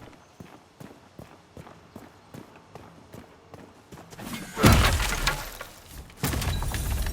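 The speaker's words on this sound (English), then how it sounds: "Smashing barrel is always fun." Wooden barrels smashed in the action RPG No Rest for the Wicked, a loud splintering crash after a run of soft rhythmic footsteps, followed by a second burst of breaking debris.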